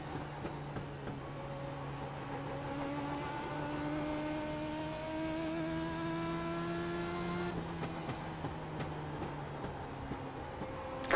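Engine of a race car in a racing video game revving through repeated gear changes, rising and falling pitch sweeps that climb steadily, loud and continuous with no talk.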